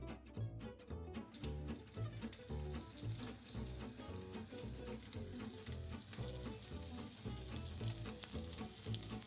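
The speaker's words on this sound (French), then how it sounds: "Quand l'huile blanchit, posez le poisson sur la peau 2 minutes environ." Hake fillet frying skin-side down in hot, shimmering oil: a steady, bright sizzle that runs throughout, partly masked by rhythmic background music.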